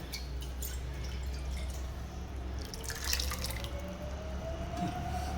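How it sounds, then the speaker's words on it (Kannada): Water trickling steadily for several seconds as about half a glass goes into a pressure cooker of lentils for coconut and red chilli saaru, with a faint kitchen hum underneath and no talk. "ಇನ್ನೊಂದು ಅರ್ಧ ಲೋಟ ಅಷ್ಟು ನೀರು ಹಾಕ್ಕೊಂಡು ಕುಕ್ಕರ್ಗೆ ಹಾಕ್ಕೊಳ್ಳೋಣ ಸಾರಿಗೆ"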